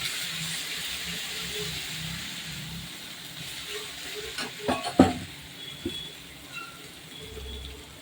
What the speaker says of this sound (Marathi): हे चांगलं तेलामध्ये परतून घ्यायचं